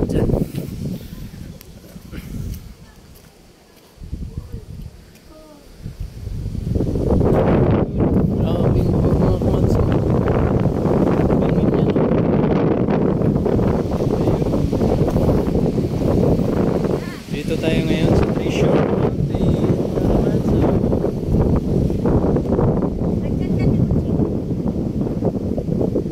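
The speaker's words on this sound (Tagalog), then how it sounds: "Tapos ang hangin mga kamatso." Strong outdoor wind starts as scattered gusts, then builds into a loud, sustained roar buffeting the microphone for most of the stretch, with brief dips in intensity.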